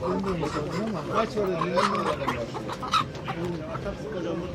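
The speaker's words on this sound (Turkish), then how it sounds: "Şu horoz abi." Chickens clucking and a rooster calling amid a busy, crowded animal market, with people talking nearby throughout.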